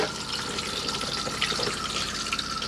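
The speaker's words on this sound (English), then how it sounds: "Press the blue button at the back, which is this one here, which is your fresh water flush." Fresh water rushes through the flush of a cassette toilet in an Auto Trail Imala 734 motorhome, a steady, close hiss of running water lasting the whole moment.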